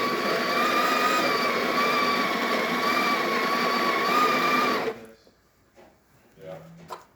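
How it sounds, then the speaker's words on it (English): A Breville Barista Express grinder on setting 4 whirs in a loud, steady, high-pitched grind for about five seconds, then stops abruptly, leaving faint clicks and handling noises. "Now we're using the number 4 setting of this grinder."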